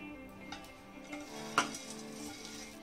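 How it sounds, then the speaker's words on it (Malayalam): Fried ingredients stirred into a rice flake and jaggery mix in a pan: soft scraping and clinking of a spoon against metal, with one sharper clank partway through, steady and close with no talk. "എല്ലാം കൂടി ഇതിനകത്തിടുകയാണ്."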